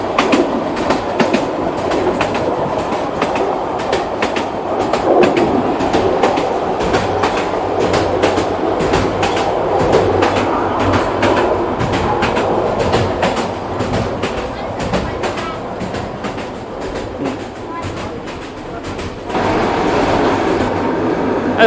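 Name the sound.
train ride in Bansko, Bulgaria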